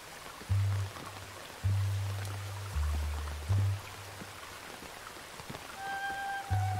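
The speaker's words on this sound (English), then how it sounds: "I do like the sound of the water when it hits the umbrella as well." Rain patters on an umbrella, a soft, close, continuous spatter with a few louder thuds of heavier drops, and no one talking.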